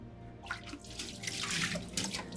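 Running water splashing and dripping as a wooden sushi oke is soaked to keep cooked rice from sticking, irregular wet spatters over a low background, no speech.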